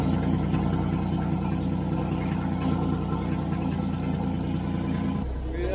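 A Toyota FJ40 Land Cruiser engine idling while running off its fuel pump, a steady low rumble held close for several seconds with no talking.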